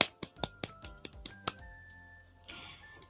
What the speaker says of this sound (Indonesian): Ayo beri tepuk tangannya.